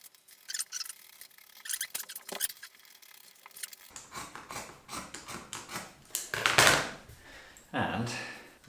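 Scissors snip through a t-shirt being cropped, a series of close crisp cuts and rustling fabric, with faint talk in places.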